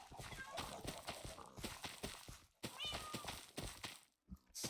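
A cat meows in modded Minecraft, a short rising cry heard partway through, under steady clip-clop footsteps of a horse and a person's voice.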